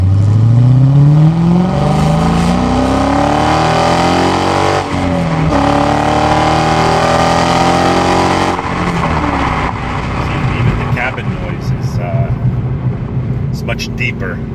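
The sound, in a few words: car with new SRT headers and exhaust accelerating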